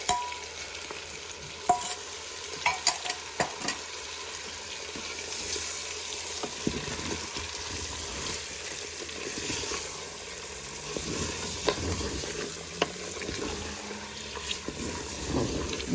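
Harissa and tomato paste fry in a Cookeo multicooker for Tunisian pasta, giving a steady, busy sizzle with occasional scraping stirs and clinks. No one speaks.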